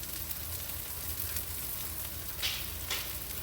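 Pepperoni and salami sandwich frying on shredded cheese in a pan, a steady close sizzle with a couple of brief crackling pops.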